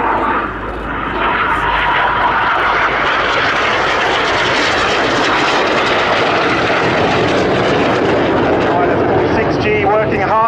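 Jet aircraft in a formation aerobatic display at the RAF 100 Cosford Air Show, 2018, give a loud, continuous roar that swells and holds for the full stretch, with an announcer talking over it.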